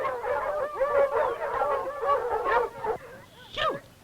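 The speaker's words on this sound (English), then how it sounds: "Get these hound dogs out of here." Several hound dogs barking and howling together in an outdoor western ranch setting, with overlapping bays and yelps in close, irregular bursts and one rising howl near the end.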